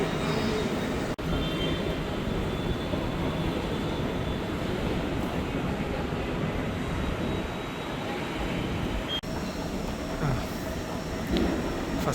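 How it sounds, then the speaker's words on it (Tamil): An airport metro train running, heard from inside as a steady, low broadband rumble and rushing hiss that stays even for the whole stretch, with no one talking. "ஸோ ஏர்போர்ட் மெட்ரோலேருந்து ஏர்போர்ட் போயிட்டுருக்கோம்."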